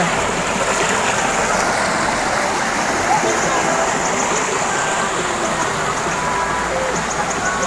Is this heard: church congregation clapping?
no